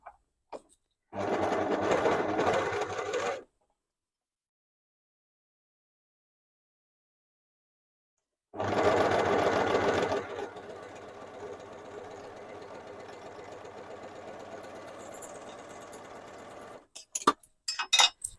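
Sewing machine stitching the top seam of a remade top: a steady run of about two seconds, a long silent pause, then a longer continuous run of several seconds, ending with a few faint clicks.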